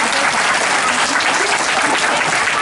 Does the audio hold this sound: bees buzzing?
no